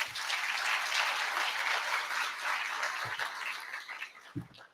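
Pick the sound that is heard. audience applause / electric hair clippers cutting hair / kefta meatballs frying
audience applause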